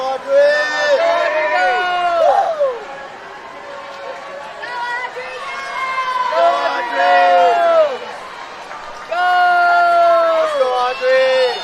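Crowd cheering at a girls swimming state final: loud, sustained shouts and whoops from many voices in an echoing natatorium, swelling and dipping in waves throughout.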